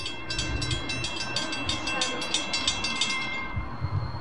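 An RTA transit train rumbles past at a distance, with a rhythmic clatter of wheels on rail joints, fairly faint against background hum.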